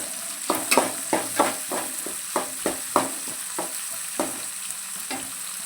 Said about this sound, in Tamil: இப்போ நல்லா தக்காளி வெங்காயம் எல்லாம் நல்லா வதங்கிடுச்சு